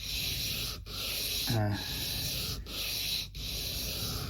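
Sideways scraping on an Alvarez acoustic guitar: a steady, close, dry rasping with brief pauses between strokes and a short snort-like catch partway through.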